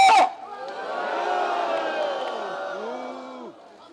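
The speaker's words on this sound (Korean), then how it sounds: "여러분 큰 함성으로 야유 한번 보내주십시오" A street rally crowd at a candlelight protest answers a call to jeer with a loud, sustained collective roar of booing and shouting that swells, holds for a few seconds, then drops off.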